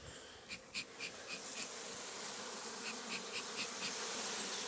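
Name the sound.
honeybees buzzing at beehive entrance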